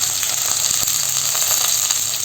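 Chopped ginger, green chilli, curry leaves and garlic sizzling in hot oil for a mango pickle, a steady loud frying hiss with faint crackles, close up and without talk.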